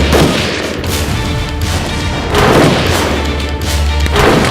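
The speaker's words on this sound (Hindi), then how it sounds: "दोनों ओर से गोला बारूद दागा जा रहा था।" Battle scene from a Hindi-dubbed film with gunfire and artillery exchanged between both sides: a dense, continuous roar of booms and blasts, loud and close, with heavier surges near the middle and end and no talk.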